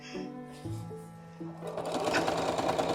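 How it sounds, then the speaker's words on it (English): A sewing machine stitches a quarter-inch seam on a split rail quilt, starting after a few brief tones and then running in a fast, steady mechanical whir close by. "So I'll go sew that."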